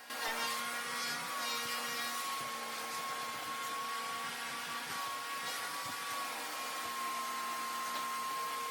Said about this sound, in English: there's nothing like a corded vacuum to get all of this fur up